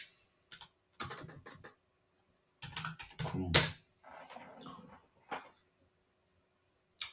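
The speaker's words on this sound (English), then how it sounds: "in the search bar type Google Chrome" Typing on a computer keyboard into a web browser search bar, heard as several short bursts of quick, close key clicks separated by pauses, with one denser, louder flurry in the middle.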